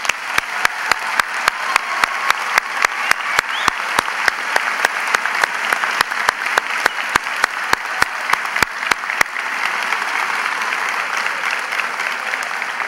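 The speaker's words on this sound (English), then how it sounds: "Members of the audience, please join me with applause to recognize the accomplishments of this wonderful class." Audience applause at the 2017 Whitman Hanson Regional High School graduation, a dense steady wash of many hands clapping with sharp clicks running through it, holding loud for about nine seconds before easing into a softer continuous patter.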